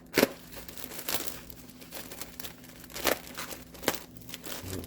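Plastic packaging of an ATV filter kit torn open by hand, with sharp crinkling rips in several short bursts and softer rustling between them, close by.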